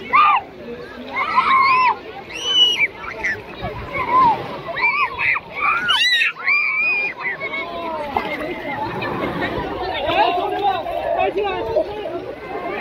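Sea water splashes and sloshes at Wangsan Beach on Yongyu Island in Incheon, South Korea, rising and falling steadily while children's voices and beach chatter carry on throughout.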